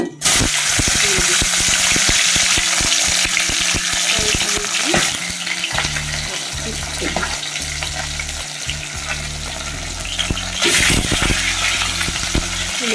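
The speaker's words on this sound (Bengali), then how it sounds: "তেল কিন্তু গরম হয়ে গেছে, এখন মাছের মাথাগুলো এক এক করে তেলে" Fish heads drop one by one into hot oil and fry with a loud, dense sizzle and spitting crackle, with bursts of bubbling and utensil knocks, while a voice talks over it.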